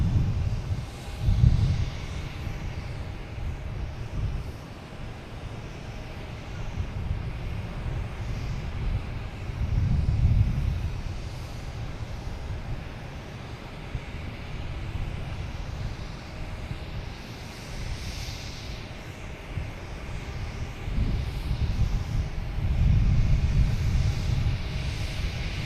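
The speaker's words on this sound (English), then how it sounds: "here comes that United coming in from Denver" A United airliner from Denver comes in to land at Boston Logan, a moderate, distant jet hum drifting under gusts of wind that thump the microphone in repeated bursts.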